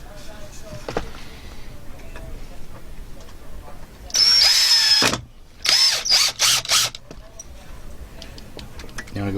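A power drill pre-drilling holes for a van bed build whirs in several short bursts, one long run followed by quick stop-start pulses, loud and close, with quiet murmuring before.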